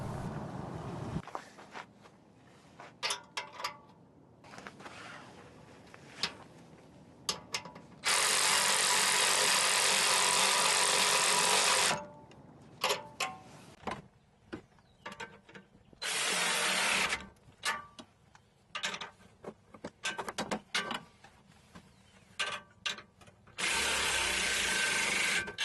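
A ratchet tightens a 1 3/4 inch clamp joining Walker direct-fit muffler tubing over resonator tubing, heard as intermittent clicking bursts broken by a few longer, dense stretches of rasping noise, with no talking.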